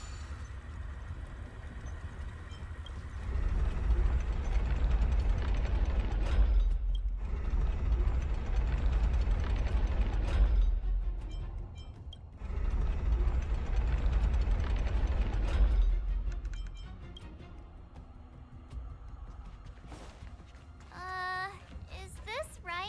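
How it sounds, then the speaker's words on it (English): In Honkai: Star Rail, a rotating gear bridge grinds and clanks in three long mechanical stretches separated by brief pauses, fairly faint, with a short game chime near the end. "we'll need to rotate the gear bridge again and go around."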